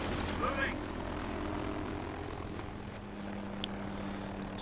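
A helicopter in the video game Medal of Honor: Warfighter gives off a steady rotor and engine drone, with gunfire and effects sounding over it.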